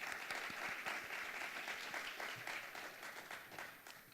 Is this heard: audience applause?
yes